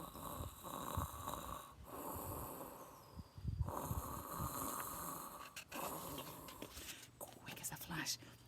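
A storybook giant snores in a slow rhythm, with heavy, wheezy breaths rising and falling, close and fairly loud, with soft breathy noises between snores.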